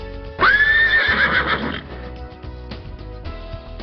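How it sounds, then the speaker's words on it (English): A horse neighs loudly and close, a shrill whinny that wavers and falls over about a second and a half, followed by fainter low rustling and movement. "Horse, young one, colt, living place, stable, cries of neigh."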